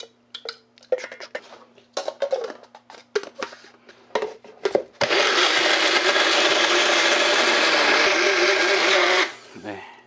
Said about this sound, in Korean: 전복 내장은 이쪽에 믹서기 넣어서 갈아주도록 할게요